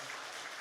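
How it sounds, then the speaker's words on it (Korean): A church congregation in Korea claps to welcome a visiting pastor and two evangelists, a brief, dense, steady patter of many hands at moderate distance. "우리 박수로 한번 환영하시고"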